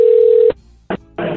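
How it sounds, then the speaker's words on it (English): A phone call ends abruptly: a steady tone cuts off with a sharp clatter as the handset is slammed down, followed by a brief quiet and then more short bursts of line noise. "You can hear him just slam the phone"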